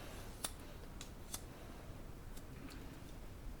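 Scissors snipping through a section of long, well-brushed hair during a home layered haircut, a few quiet, sharp cuts spaced apart over a soft background hiss.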